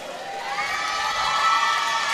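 A crowd at a women's underwater rugby match cheers with high shouts and whoops after a Danish goal, a sustained roar swelling toward the middle.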